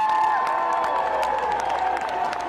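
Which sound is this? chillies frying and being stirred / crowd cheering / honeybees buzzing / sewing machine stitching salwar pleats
crowd cheering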